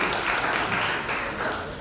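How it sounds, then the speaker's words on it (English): A crowd at the South Summit Playground Stage applauds a veteran entrepreneur, a loud, continuous roar of clapping that fills the short moment. "Big applause to him"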